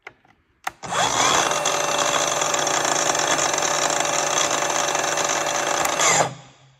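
A power tool is switched on at its slowest setting of about 1300 RPM and runs as a steady, loud whine for several seconds before cutting off, preceded by a couple of clicks.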